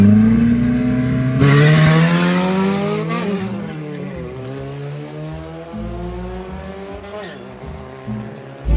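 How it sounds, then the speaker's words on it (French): A VW Beetle-bodied race car fitted with a small Toyota Corolla engine revs loudly and close at a truck race in Maracaibo, Venezuela, the engine rising and falling in pitch with tire squeal and skidding through most of the run. "C'est un petit moteur de Toyota Corolla à l'intérieur."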